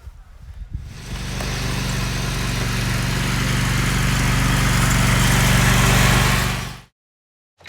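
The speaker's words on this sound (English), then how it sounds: "take your air pump or air compressor and pump the tire up" An air compressor inflates a flat lawn mower tire with a steady, loud droning hum that runs continuously for about six seconds before cutting off into silence.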